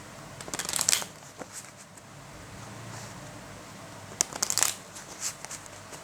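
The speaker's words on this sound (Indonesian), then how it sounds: "Sebelum itu saya shuffle dulu ya untuk kartunya." Tarot cards shuffled by hand during a Cancer love reading, heard as two bursts of quick riffling flutters about three seconds apart over faint background hiss, with no talking.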